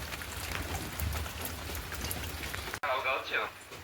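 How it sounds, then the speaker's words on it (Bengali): Steady hiss of all-night rain falling on surfaces, briefly cut off near the end, followed by a short stretch of rain with faint voices. "এখানে সারা রাত বৃষ্টি হচ্ছে, এখনো বৃষ্টি হচ্ছে"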